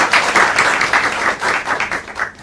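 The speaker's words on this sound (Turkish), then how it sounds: "Maşallah, ben alkışlıyorum" Guests at a poolside gathering break into applause, a busy patter of many hands clapping together that swells and dips slightly before starting to fade at the end.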